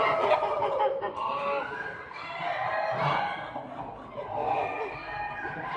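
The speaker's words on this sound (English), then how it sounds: "these blue-eyed top-knotted geese are called Roman" Roman geese, blue-eyed and top-knotted, honk and call repeatedly at a poultry show, their overlapping cries rising over a busy hall murmur with other fowl nearby.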